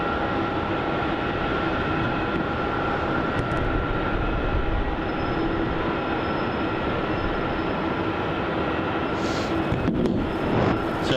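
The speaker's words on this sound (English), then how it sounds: "So we've got a Jetstar 787 Dreamliner taking off on runway 27" A Jetstar Boeing 787 Dreamliner takes off on runway 27 at Melbourne Airport, a steady, broad jet roar that holds at an even level throughout with no talk over it.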